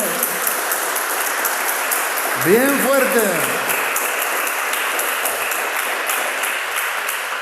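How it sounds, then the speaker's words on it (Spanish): Congregation clapping in a church during a Spanish-language sermon, a dense steady wash of applause through the whole stretch, with a short voice breaking over it near the middle. "Dale un aplauso a Cristo"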